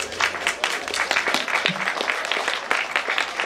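Applause fills the room at the opening of an intellectual property bureau office, a crisp crackle of many clapping hands, fairly close and sustained, with a brief voice heard among it.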